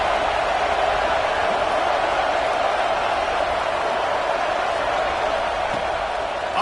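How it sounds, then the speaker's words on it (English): A packed stadium crowd at a football game roars in a steady, loud, unbroken wall of cheering and noise lasting several seconds, with no clear individual voices standing out. "Listen to this crowd just shaking the girders of this place"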